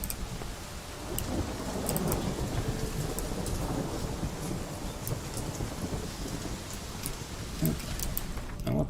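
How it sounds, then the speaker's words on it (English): Rain and thunder in The Witcher 3, a steady dense hiss of rainfall with low rolling rumbles and scattered sharp drip clicks, continuous throughout, with speech in the background. "I want the rain to go away and I want it to be daytime."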